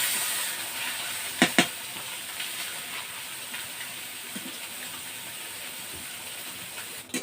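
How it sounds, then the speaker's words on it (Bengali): Small mola fish fry in oil with a continuous close sizzle and hiss, punctuated by a couple of sharp utensil clinks early on and another at the end. "এবার মৌরলা মাছগুলো ভেজে নেব।"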